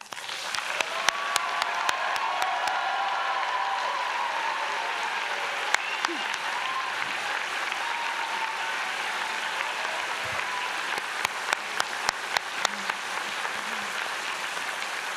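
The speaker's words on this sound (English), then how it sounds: "There can never be too much applause for a day like today, so I want one more time applaud you." Sustained applause from a convocation audience celebrating graduates at a college ceremony, a dense, steady wash of clapping with a few sharper individual claps standing out, no speech over it.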